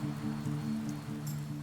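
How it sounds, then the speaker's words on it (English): Heavy pouring rain falling steadily around a house under construction, a continuous dense hiss with scattered droplet spatters, close and moderately loud, no voices. "the pouring rain runs off to the side"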